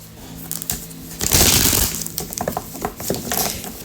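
Tarot cards being shuffled by hand, giving a burst of crisp riffling and slapping with scattered clicks and clinks, loudest in a brief flurry near the middle.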